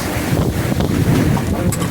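A sailboat drives fast through big, bumpy seas, a loud constant roar of wind and rushing water against the hull with heavy gusting buffeting and no voices.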